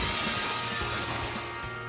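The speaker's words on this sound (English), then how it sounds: "the noise of the breaking glass" Glass shatters in the adventure game Dead Synchronicity, a loud, bright crash with a dense spray of tinkling shards that slowly thins out, heard alone without talking.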